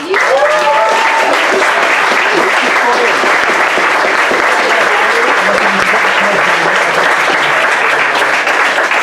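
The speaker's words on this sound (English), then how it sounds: "So, give a round of applause for Alan and Joe Smallwood." A crowd gives a round of applause for Alan and Joe Smallwood at a seniors' thank-you event, loud sustained clapping that holds steady for about nine seconds, with some voices and cheers mixed in.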